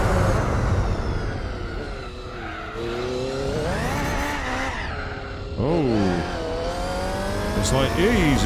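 A race car engine in Gran Turismo 4 revving up and dropping through gears, pitch climbing and then falling sharply at each downshift, with tire squeal mixed in and a voice talking over it.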